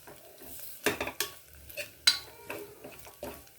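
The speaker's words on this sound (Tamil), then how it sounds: "நெய்யில் தேங்காய் வறுபடுறதுனால நல்லா வாசமாக இருக்குது" Grated coconut roasting in ghee for rice kalathappam, stirred with a spoon that clinks and scrapes against the pan in a burst of quick strokes over a soft background sizzle, close up with no voices.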